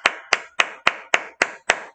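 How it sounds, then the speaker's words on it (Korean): A class of students clapping for a classmate in an English lesson: seven crisp, evenly spaced claps in unison, loud and close, about three per second, with no talk. "민철이 박수 쳐."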